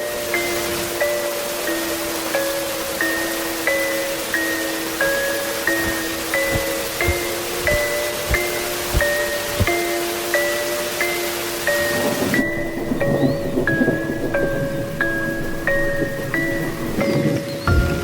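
Heavy rain pours over a lion habitat in the wild, a dense steady hiss broken by low rumbling thumps of thunder, with sustained tonal notes ringing above the downpour throughout.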